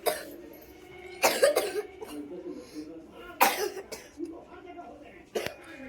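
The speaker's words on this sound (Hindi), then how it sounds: "बस खांस रहा है तो हल्का हल्की खांसी हो रही है" A child with a sore throat coughs in short bursts, two strong fits spaced apart plus a brief cough near the end, with quiet room noise between.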